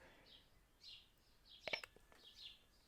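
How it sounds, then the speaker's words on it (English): Outdoors at a mountain home, distant birds give faint, repeated chirps and short whistled calls, spaced out over a quiet background with a brief cluster of sharper notes. "I hope you guys can hear the birds in the background"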